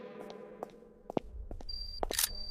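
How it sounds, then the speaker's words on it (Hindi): Camera being switched on to begin recording in a dark, eerie place, giving a few short mechanical clicks followed by a faint high electronic tone, with scattered taps and a brief rustle near the end. "कैमरा ऑन करो, रिकॉर्डिंग शुरू।"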